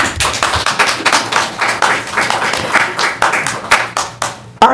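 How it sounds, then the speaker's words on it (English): Audience applause at a city council session on a land-use rezoning hearing: a few dozen hands clap in dense, uneven bursts that taper toward the end, fairly close in a room. "Please hold your applause."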